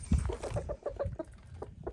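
Chickens peck at organic scratch feed of corn, sunflower seeds, peas and grains, with a rapid series of soft clucks close by over pecking and rustling.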